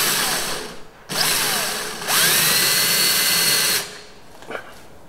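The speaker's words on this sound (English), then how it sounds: "going to mark it with the drill" A power drill marks a hole in metal during fabrication of a vehicle rotisserie jig. It runs in three close bursts of steady whine, with a short pause and a spin-down between them, then stops.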